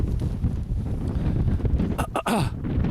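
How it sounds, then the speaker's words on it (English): Steady wind buffeting a microphone on a breezy Welsh mountain summit during a hill survey, a continuous low rumbling roar with gusty swells throughout, briefly dipping before rising again. "I'm going to stand up for a moment and face into the wind so you can see how breezy it is"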